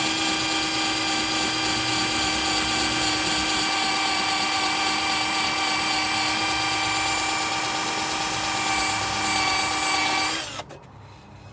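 A power drill spins a Mothers polishing ball against the exhaust tips of a Mustang GT, giving a loud, steady, high-pitched whine that holds evenly for about ten seconds. It then cuts off abruptly, leaving faint background noise.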